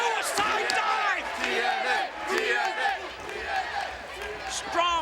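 A pro wrestling arena crowd roars and cheers loudly, with many overlapping yells and whoops that rise and fall in waves throughout.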